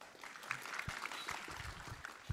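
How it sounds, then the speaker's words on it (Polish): An audience applauds briefly at a Polish public meeting, a dense patter of clapping that is mid-distance and moderately loud, with a few louder claps standing out and no talking over it. "A te oklaski są dla PKN Orlen?"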